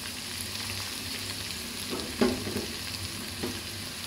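Onions and green chilies frying in a pan for an okra and potato sabzi, a steady close sizzle with a brief stirring scrape near the middle.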